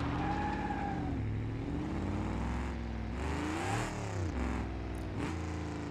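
Damaged car engine running in BeamNG Drive, fitted with side exhaust, a continuous loud rumble that rises and falls in pitch as it revs, with no voices.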